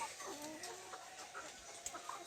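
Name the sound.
newly arrived layer chickens clucking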